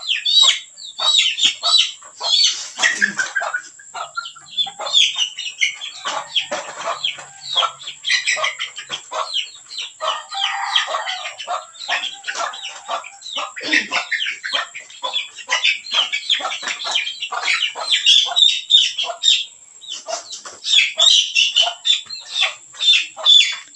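Red junglefowl hens and chicks cluck, chirp and squawk almost nonstop, a busy close flock of overlapping calls with no talking.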